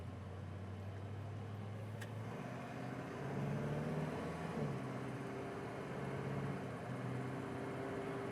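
A 1941 Willys pickup truck drives on a road and accelerates, its engine a low steady drone whose pitch rises and steps through shifts, heard from inside the cab, moderately quiet and without speech.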